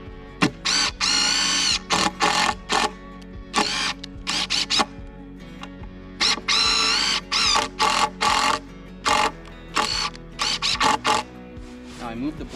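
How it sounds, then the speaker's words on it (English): A power drill drives screws into a firewood slab board, repeated bursts of whirring motor that start and stop in short runs, loud and close, with brief pauses between. "Now we can screw it down."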